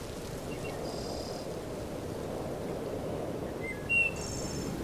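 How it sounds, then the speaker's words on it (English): Birds chirp from the TaoMix 2 ambient sound app: a few brief, high chirps and tweets over a steady soft wash of background noise, faint and sparse. "There are lots of sounds to choose from, such as birds chirping"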